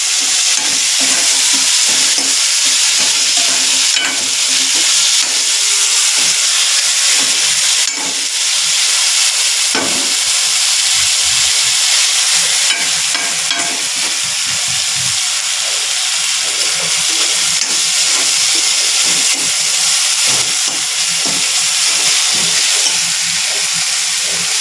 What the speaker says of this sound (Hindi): अब उसमें हम हरी मिर्च लहसुन कुटा हुआ था वो डालेंगे। अच्छी तरह से मिक्स कर लेंगे।